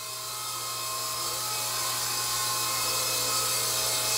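A Blade 120 SR radio-controlled helicopter hovers nearby, its small rotor and motor producing a steady high-pitched whine and buzz that holds evenly and swells slightly louder throughout.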